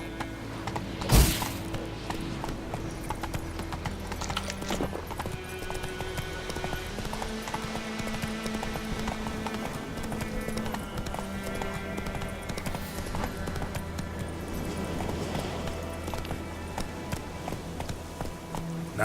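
Roach, a horse in The Witcher 3, gallops with rapid, steady hoofbeats that keep a continuous driving rhythm, close and prominent. Game music plays underneath and a sharp hit sounds near the start.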